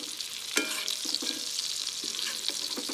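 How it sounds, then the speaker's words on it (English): Garlic butter sizzles in a hot pan as it is spooned repeatedly over a searing beef tenderloin steak, with soft rhythmic spoon clinks and a steady, close crackle. "we're gonna wanna go ahead and start spooning some of this butter mixture"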